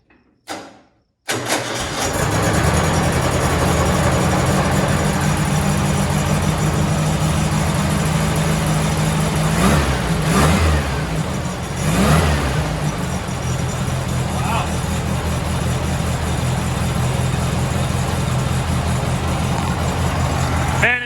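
An old VW engine with no exhaust leaks cranks and catches, then runs at a steady loud idle with a couple of revs partway through, rumbling continuously throughout.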